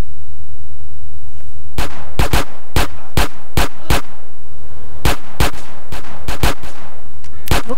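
Machine gun fire in GTA San Andreas, loud sharp shots in two clustered volleys of rapid bursts with a short pause between, no talking over it.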